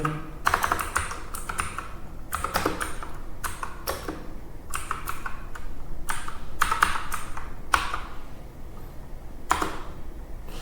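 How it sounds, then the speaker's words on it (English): Someone types an ssh-keygen command on a computer keyboard, irregular bursts of close, crisp key clicks separated by short pauses, with no talking. "we will write the command ssh keygen"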